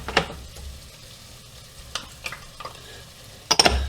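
Chopped red pepper goes into a pot for Louisiana chicken gumbo, bringing a faint sizzle with a few scattered clinks and stirring scrapes, some sharper near the end.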